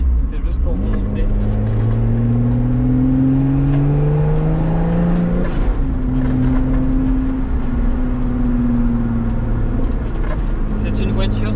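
A Lotus Exige 380 Sport engine with no power steering revs up through the gears, its droning note climbing, dropping at a shift about halfway through, then pulling again, loud and steady from inside the car.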